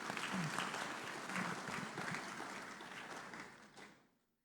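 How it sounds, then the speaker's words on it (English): Audience applause fills a summit hall, broad steady clapping from many hands that holds evenly for about four seconds before fading out. "Please, a round of applause."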